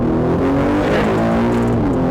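Aston Martin DB12 supercar engine pulling hard under acceleration, a loud, steady rising engine drone with rich harmonics, heard from inside the car with no talk.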